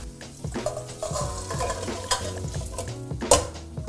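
Celeriac pieces hit a hot oiled pan with busy crackling and frying, mixed with repeated clanks and scrapes of a utensil against the pan and a sharp clatter near the end.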